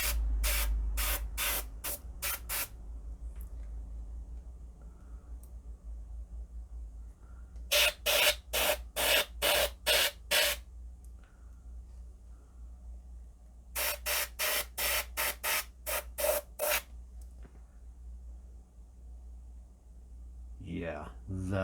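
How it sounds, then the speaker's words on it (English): An airbrush compressor runs while black paint is sprayed, with a low steady hum underneath throughout. Three clusters of rapid, regular bursts cut through it, each lasting a few seconds, with pauses of quieter running in between. "I do apologize if my compressor is loud on the microphone."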